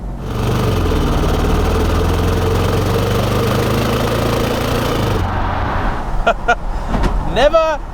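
2008 Bentley Brooklands V12 engine accelerating hard, a loud, deep, rising drone for about five seconds before cutting off, followed by short clicks and a brief rising whine.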